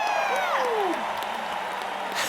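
A studio audience cheers and applauds a newly committed couple on a marriage show, with dense clapping and whoops holding steady throughout and a voice briefly audible over the crowd.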